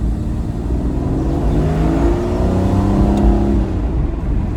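A 2006 Aston Martin DB9 Volante's 5.9-litre V12 engine revs with a deep, sustained throaty roar that rises and swells, close and loud, with no voices.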